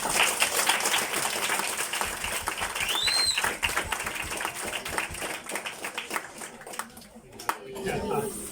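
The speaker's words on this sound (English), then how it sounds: "Let's give ourselves a round of applause." Students and staff at a KMA school assembly clap together in a dense, sustained burst of applause that fills the hall, with scattered voices and a brief whistle-like squeal over it before it thins out near the end.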